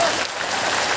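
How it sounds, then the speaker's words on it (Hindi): Loud audience applause fills a large gathering at a Hindu religious assembly, a dense, steady wash of clapping lasting about a second with no voices standing out. "जोरदार ताली बजाइए आप सब।"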